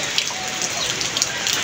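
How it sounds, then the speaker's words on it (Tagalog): Gentle morning rain in Bicol patters steadily on a surface, a dense hiss of drops with small scattered taps, close and even throughout. "banayag ang ulan"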